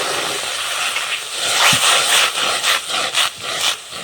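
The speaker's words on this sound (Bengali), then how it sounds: "সুজিটা আমি হালকা করে নেড়ে নিয়েছি, এবার আমি পরিমাণ মতন জল ঢেলে দেবো।" Water hits dry-roasted semolina in a hot pan, raising a broad hiss and sizzle that swells midway, then breaks into uneven bubbling and scraping bursts.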